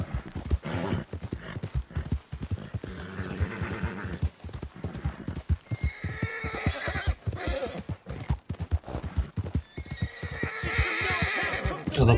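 An agitated horse in the Western game Red Dead Redemption 2 whinnies loudly and repeatedly, with stamping hoof clops and snorts through a continuous, busy stretch and no talk.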